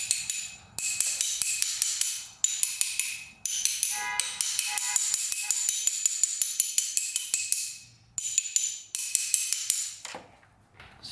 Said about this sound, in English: we're going to try hitting on this. See if that piston in there is stuck.